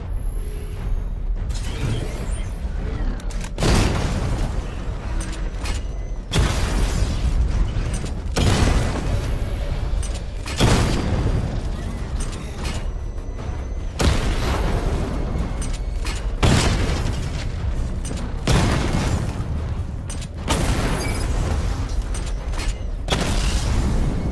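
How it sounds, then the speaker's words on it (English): Missile barrage in Batman Arkham Knight charging and firing over and over, a loud mechanical whirring and creaking build-up broken by booming launch bursts roughly every two to three seconds, with no talk. "Charge the missile barrage to level 2 to destroy up to 4 targets at once."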